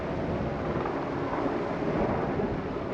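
Strong wind roaring steadily through a canyon near Silverton, a dense, continuous low rumble with buffeting against the microphone and no pauses.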